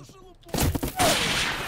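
Gunshots in the survival shooter Stalker: Misery. A quiet, near-silent stretch is followed by several sharp, loud reports in quick succession, then a lingering noisy tail.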